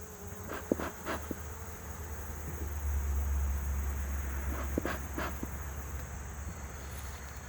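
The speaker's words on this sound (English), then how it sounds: "I got bees boiling out everywhere" Agitated Saskatraz honey bees pour out of an opened hive at the end of the honey season. A continuous low buzzing hum is broken by scattered sharp knocks and clicks of hive handling.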